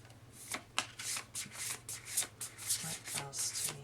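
Cards being shuffled in a series of quick riffling bursts, close and fairly soft, with brief pauses between the bursts.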